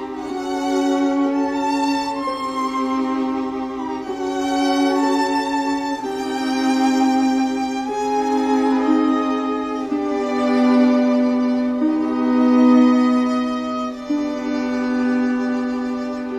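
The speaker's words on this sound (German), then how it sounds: "Also das Jacob hat ein eigenes Thema und das klingt so" Instrumental musical theme for the character Jacob, heard alone as a steady, layered melody of sustained harmonic tones that moves through gentle note changes for about sixteen seconds.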